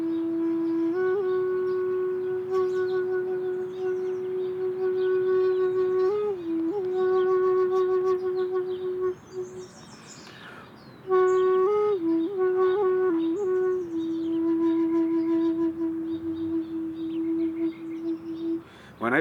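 An Indigenous flute plays a calm, sparse melody of long held tones with gentle slides and small ornaments, near and clear, with soft breaths and a short gap between phrases.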